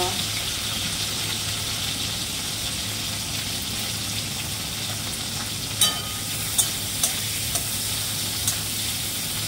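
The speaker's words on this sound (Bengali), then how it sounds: "টমেটোটা একটুখানি ভাজতে দেবো।" Tomato and green chilies fry in a pan of oil for a vegetarian curry, a steady broadband sizzle running throughout, with a few sharp clinks of a spatula near the end.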